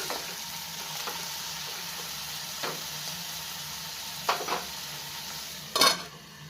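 Diced potatoes and capsicum fry in a pan for a dry Bengali curry, a steady soft sizzle broken by a few spatula scrapes and metallic clinks of stirring.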